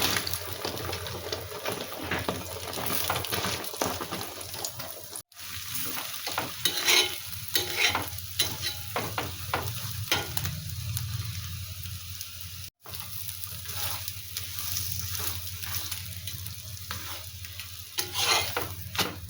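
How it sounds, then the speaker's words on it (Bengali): An egg fries on a roti in an oiled pan, giving a steady close sizzle with intermittent scraping and stirring clatter throughout, no voices. "এই ডিমটা ভালো করে ভেজে নিলাম রুটির উপরে দিয়ে"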